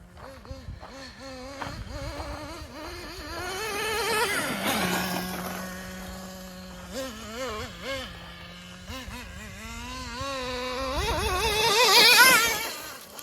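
A Traxxas Nitro Slash RC car runs on its nitro engine, which has poor throttle response from a neglected linkage. A high, buzzing engine whine rises and falls, holds a steady idle-like drone midway, then surges loudly at the end.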